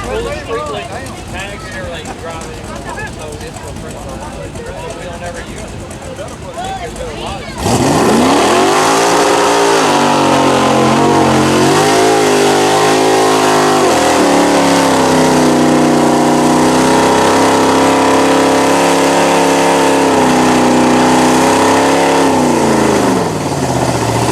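Giant Hot Wheels car roars off the starting line, its engine suddenly revving loud and accelerating, a sustained heavy drone with shifting pitch after a quieter opening stretch.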